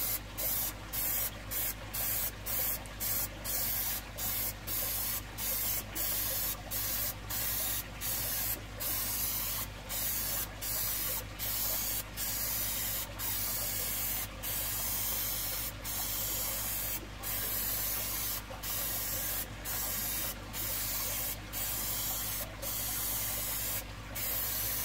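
A second coat of paint is sprayed onto an aquarium background. A continuous, close, loud hiss runs throughout, broken by brief regular gaps as the spray is pulsed.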